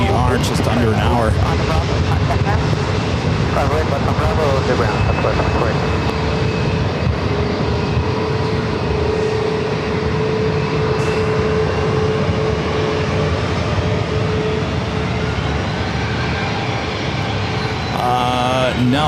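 An American Airlines jet roars steadily on approach to runway 27 at San Diego airport, loud and continuous engine noise throughout, with talk over it.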